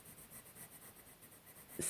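Lyra Rembrandt Polycolor colored pencil, a soft burnt ochre, scratching steadily across paper in short repeated strokes, close and quiet, with a brief louder knock at the end.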